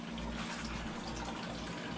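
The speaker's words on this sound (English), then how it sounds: "We're draining the water right now so we can cut this and install our new shower valve." Water drains steadily from opened shower plumbing during a bathroom demolition, a continuous low gurgling flow that stays even throughout, with no voices.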